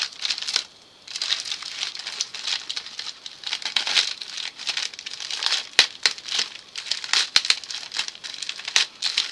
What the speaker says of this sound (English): I guess I'll open the one where they taped it closed.